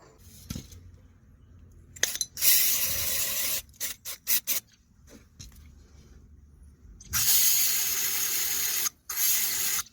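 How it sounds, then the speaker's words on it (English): Several long hissing bursts of an aerosol spray on a car's front strut, broken up by short quick spurts, close by with a faint steady hum underneath. "Also gonna spray around this area so that the strut comes off easily."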